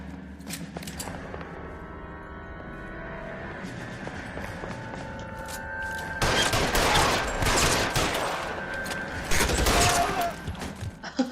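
Gunfire in the 1940s crime game LA Noire: a few sharp isolated shots early on, then a loud cluster of rapid shots in the second half, over a low game backdrop.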